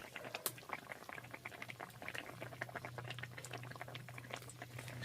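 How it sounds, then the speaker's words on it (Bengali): Egg curry gravy boils in a pot with a dense, continuous bubbling and popping, close and moderately quiet, with a low hum underneath and no talking. "দেখো গ্রেভিটা ফুটে এসছে"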